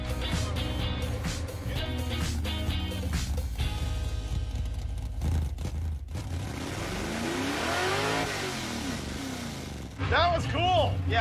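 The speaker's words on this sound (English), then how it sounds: "I liked your burnout." A 1956 Chevy engine roars and revs hard during a burnout, loud and close, then rises into a sweeping pitch toward the end, with people talking and shouting over it.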